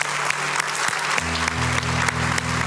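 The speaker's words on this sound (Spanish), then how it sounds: "un fuerte aplauso al Señor" A church congregation applauding during a sermon, loud sustained clapping with sharp individual claps standing out, and a low sustained tone or music entering partway through and continuing beneath.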